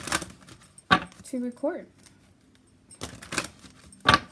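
Tarot cards being shuffled by hand during a reading, heard as sharp riffling bursts at the start and end with a short spoken phrase in the middle.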